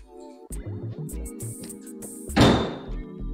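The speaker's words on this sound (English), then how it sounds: "And then the same thing over here, one-handed, dumps the bed." CFMOTO UForce 1000XL side-by-side with its dump bed tipped one-handed: a run of close, heavy thunks and clunks, then a louder rattling crash as the bed drops, followed by a few more knocks.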